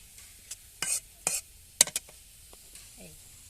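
Lightly browned onions sizzle softly in oil in a village kitchen as a utensil scrapes and stirs the pan in several short, distinct bursts, with quiet gaps of low frying between.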